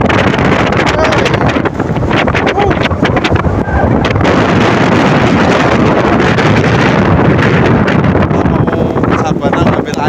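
Strong gusting wind on a misty mountain trail toward a savanna on Mount Butak, roaring loudly and steadily across the microphone with constant buffeting for the whole stretch.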